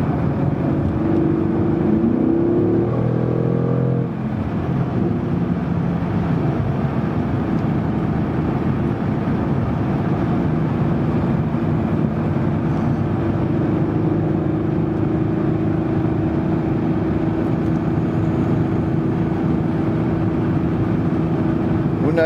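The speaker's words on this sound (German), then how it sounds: "Jetzt 160 jetzt bei 3250 Umdrehungen. Jetzt höre ich den Motor" A 2018 Mercedes-AMG GT R cruising at highway speed, heard from inside as a steady engine drone blended with wind and tyre roar, with a brief shift in engine tone early on.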